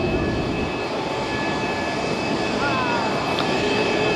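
AV-8B Harrier II jet at the 2006 MCAS Miramar airshow moving from hover into forward flight, a loud steady engine roar with constant broadband rumble and whine throughout.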